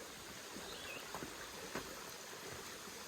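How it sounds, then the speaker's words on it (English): A small waterfall beside a river trail on the Manistee River Loop, heard as a steady, fairly faint rush of falling water with a few brief splashes and no voices. "Looks like there's a little waterfall over here."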